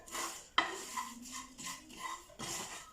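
Coriander and cinnamon powder are stirred as they roast in a pan, with soft scraping, a sharp metallic clink and faint rustling close by.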